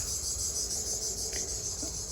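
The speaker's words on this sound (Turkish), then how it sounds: "Burada da gene bir cırcır böceği bizi buldu." Crickets chirp steadily in a continuous high, even trill, with a faint low background rumble and no voices.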